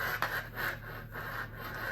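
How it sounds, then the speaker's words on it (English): A knitting needle knocks and scrapes against a small poster board backdrop while a provisional cast-on is worked on two circular needles, giving soft, close scratchy rubbing with a faint tap near the start, quiet and continuous. "it's the noise of my second needle hitting the little poster board background that I have here."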